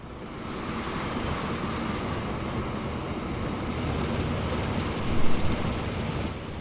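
Train running in the video game Transport Fever 2: steady rolling rumble of wheels on track with faint high squeal, continuous throughout with a brief louder bump near the end, no talk.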